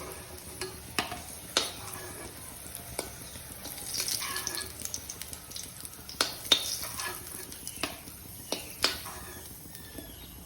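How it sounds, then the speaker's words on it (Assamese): Lentils are tempered in hot oil left from frying pointed gourd, with fenugreek and dried chilli added, making a quiet crackling sizzle broken by sharp clinks and scrapes of stirring, with little or no talk. "পটল ফ্ৰাই কৰা তেলকণতে আমি এতিয়া দাইলটো দি দিম"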